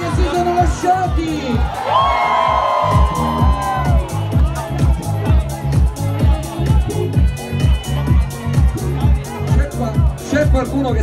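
A crowd at a disco opening night shouts and whoops loudly over pounding, rhythmic dance music, with the cheering swelling early on and blending into the steady beat.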